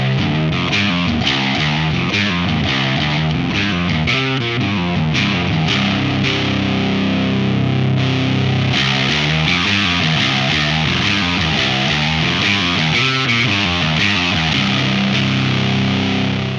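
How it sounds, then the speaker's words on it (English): An electric guitar plays through a Frost Giant Electronics Mountain pedal, a Rat-style distortion with a distortion/overdrive toggle and selectable gain stages. The tone is thick and saturated, with chords and riffs changing steadily, loud and close with no voices. "Another take on the Rat that has even more unique additions is the Mountain from Frost Giant Electronics"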